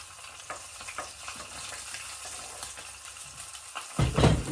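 Fresh ginger and onions sauté in a pan with soft continuous sizzling and scraping stirs, close, ending in a louder burst of frying hiss.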